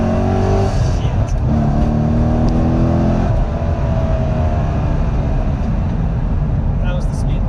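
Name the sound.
Corvette C6 Z06 LS7 V8 engine revving while accelerating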